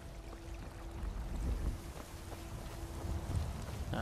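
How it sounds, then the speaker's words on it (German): Steady wind blows through the Skyrim game world, a broad continuous rush with low rumbling gusts and a faint sustained tone, heard alone without talk. "Ach Gott, der Wind zieht."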